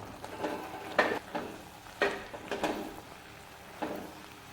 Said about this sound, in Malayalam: ഇനി നമുക്കൊന്ന് ഇളക്കി യോജിപ്പിക്കാം